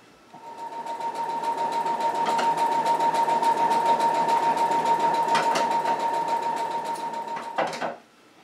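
A sewing machine runs steadily for about seven seconds, stitching spandex cowl pieces together, then stops abruptly with no talking.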